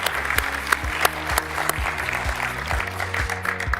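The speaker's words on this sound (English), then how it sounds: "round of applause." An audience at a sports analytics conference awards session claps in a steady, moderately loud round of applause that fills the room, with thumping beats of music running beneath it.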